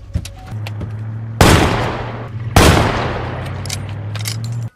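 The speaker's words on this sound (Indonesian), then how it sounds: "Mertua Paul pun lantas mengambil senapannya lalu menembak orang asing itu untuk menakut-nakutinya." A rifle fires two loud, sharp gunshots about a second apart, each with a trailing echo, over a low steady hum in a film scene.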